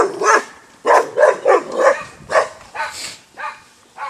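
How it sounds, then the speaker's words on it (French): A dog barks repeatedly at close range, about eight sharp barks in an uneven rhythm over a few seconds, loud and clear with no talking. "Bon, c'est rien, c'est un chien."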